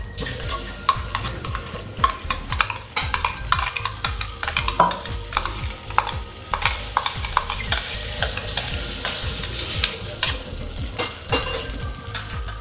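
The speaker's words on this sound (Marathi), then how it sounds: "आपण ही आलं लसणाची पेस्ट पण परतून घेणार आहे।" Ginger-garlic paste sautés in oil and butter for mutter paneer, sputtering with a busy sizzle as a spoon stirs it with frequent close scrapes and light clinks against the pan, and no talk.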